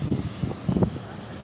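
Wind rumbles against the microphone in uneven low gusts, with faint muffled voices underneath.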